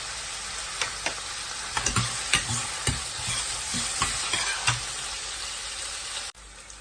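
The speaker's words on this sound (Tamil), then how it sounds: "வெந்தயம் ஆனியன் பச்சை மிளகா கறிவேப்பி இது நல்லா வதங்கணும்" Fenugreek, onion, green chili and curry leaves sautéing in oil with mustard seeds for a stingray fish curry: a constant close sizzle punctuated by regular scraping stirs, ending in a sudden cut.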